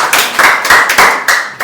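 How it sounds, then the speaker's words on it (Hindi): A church congregation claps its hands together in a brisk, fairly loud rhythm of about six beats in under two seconds, with no speech. "आप प्रभु की उपस्थिति के लिए ताली बजाइए"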